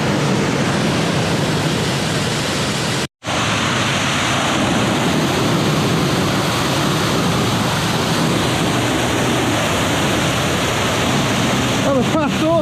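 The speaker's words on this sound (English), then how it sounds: "This is waterfall number 4" A loud waterfall in the Brecon Beacons roars as a steady, dense broadband rush from close range, heard from the path leading behind the falling water, with a brief cut near the start.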